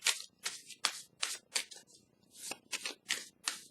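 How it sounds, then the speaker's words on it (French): Drawing an animal card from a deck of oracle-style cards: a quick series of about ten crisp papery swipes and flicks at a steady rhythm, close and fairly quiet, with no voices. "je vais vous piger une carte animale"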